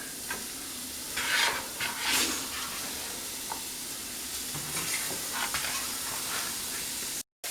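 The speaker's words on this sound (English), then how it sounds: "So there's my ½ pound of bacon. I'm going to go ahead and throw that in the pan." Half a pound of bacon sizzles in an already hot pan, a steady close crackling hiss with a few louder pops and spatters, then a brief cut near the end.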